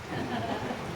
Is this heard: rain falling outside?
yes